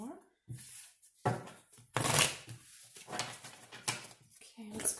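Tarot cards being shuffled in quick riffling bursts, crisp and close, with short pauses between rounds.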